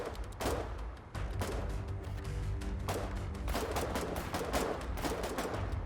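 Gunfire in the war game Foxhole crackles in dense bursts and rapid volleys, with overlapping shots and machine-gun rattles coming in uneven clusters at moderate distance, no talk over it.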